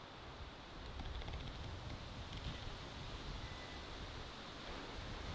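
Wind gusts across an ocean-view wild camping spot by a hammock, giving a continuous broad rushing roar with low rumbling buffets on the microphone, steady throughout and with no speech.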